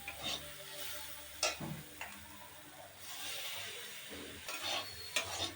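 Lentils with turmeric powder stirred and fried in a pan, a soft continuous sizzle broken by several scraping spoon strokes and light knocks against the pan, fairly quiet with no talk.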